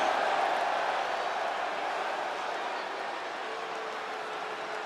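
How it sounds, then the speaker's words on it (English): A large arena crowd in WWE 2K25 roars in a dense, continuous wash of cheering that holds steady and fades slightly, with no single voice standing out. "The crowd is fired up, waiting to hear what he's got to say."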